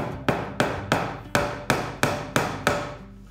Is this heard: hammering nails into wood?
yes